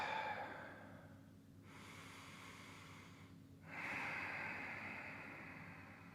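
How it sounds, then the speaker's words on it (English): Slow nasal breathing during a yoga class at home: a long inhale through the nose, a pause, then another airy breath, close and soft against quiet room hiss. "Breathing through the nose, in and out."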